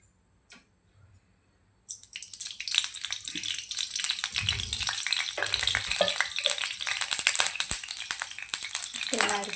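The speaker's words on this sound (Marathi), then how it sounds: "गॅसवर सर्वात आधी कढई ठेवून त्यामध्ये आता आपण तेल ॲड करूया" Oil in a kadhai on a gas stove, heating for a chana masala tempering, breaks into a steady, close crackling sizzle after a quiet first two seconds, with occasional light clinks.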